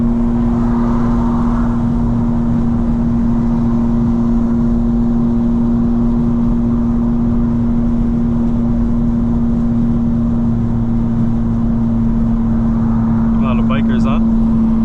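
Exhaust of a 2025 BMW M4 CS under way on a wet road, a steady, loud engine drone with road noise that holds at one pitch throughout, and a brief higher chirp near the end.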